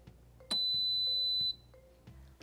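A Baby Brezza One Step Sterilizer Dryer Advanced gives a single clear electronic beep as it begins its sterilizing cycle, a sustained tone of about one second, standing alone over faint background clicks and room noise.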